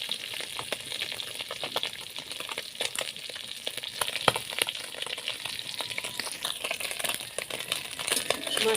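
Oil crackles and sizzles steadily as puti fish (pool barb) fries, with scattered sharper pops over a continuous hiss, close by.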